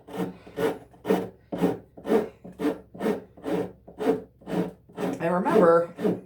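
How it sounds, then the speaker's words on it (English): Rounded rasp filing wood in about ten even back-and-forth strokes, each a rough, scratchy rasp with short gaps between, close and clear, the final strokes quicker and blurred together. "rounded little fake dragon rasp helps out a lot"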